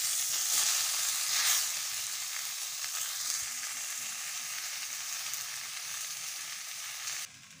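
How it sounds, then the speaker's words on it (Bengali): Raw mango pieces fry and get stirred in oil over a low flame for pickle, sizzling loudly at first, then settling into an even hiss with soft stirring before cutting off abruptly. "তো লো ফ্লেমে দিয়ে ভালো করে এটা ভেজে নিতে হবে"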